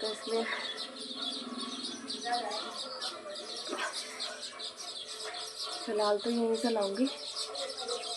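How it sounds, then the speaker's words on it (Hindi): Birds chirp and tweet outdoors near a crossroads, scattered calls fairly faint under someone talking close by. "चिड़िया की आवाज़ आ रही होगी"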